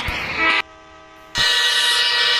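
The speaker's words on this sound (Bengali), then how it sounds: "ট্রেনটা তো আবার ছেড়ে দিল" A train horn sounds loud and close as a passenger train pulls away, a sustained blast cutting out briefly mid-clip before returning with steady rail rumble.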